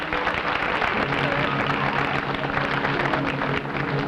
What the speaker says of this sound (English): Let's give Grandma Cropper a nice round of applause